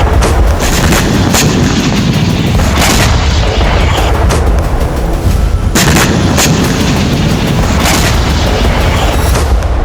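Heavy artillery fire and explosions during an attack on Ukraine, loud repeated booms and blasts over a dense, constant roar of gunfire, saturated and close throughout.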